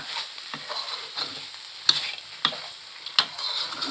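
A curry with rat meat is stir-fried in a pan, a soft continuous sizzle punctuated by a few sharp scraping and clinking strokes of a utensil.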